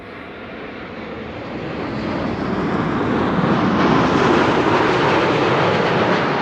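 Boeing 787-10 Dreamliner at Amsterdam Schiphol Airport, a loud rushing jet roar that builds steadily and holds, heard alone.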